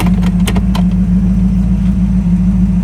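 A 1964 Pontiac Parisienne engine idling with a steady, loud low rumble and even throb, a few brief higher clicks near the start, alone without talking.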